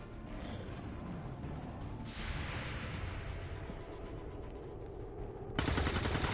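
Gunfire in the XCOM 2 video game rattles in a dense, continuous burst over a rumbling battle background, with a sharp whoosh midway and a louder crack of shots at the end.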